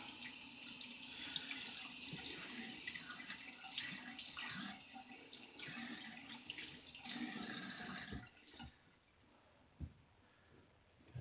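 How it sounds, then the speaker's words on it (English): Tap water runs steadily into a sink as a vintage Star Cru-Steel razor is rinsed beneath it, a soft continuous splashing that stops abruptly near the end, leaving a few faint knocks. "Let's rinse it all off."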